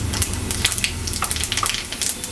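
Half a spoon of panch phoron, the Bengali five-spice, with dried red chillies spluttering in hot oil in a pan, a steady close crackle and sizzle with scattered sharp pops throughout.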